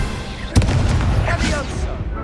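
A Confringo fire spell blast in Hogwarts Legacy, a sharp booming burst followed by a rumbling, crackling spread of noise that fades over about two seconds.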